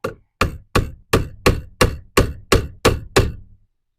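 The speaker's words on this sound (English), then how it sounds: "Hammer it in." A staple is hammered into a 2x4 with ten sharp, evenly spaced hammer blows in steady rhythm, each a crisp close knock that decays quickly.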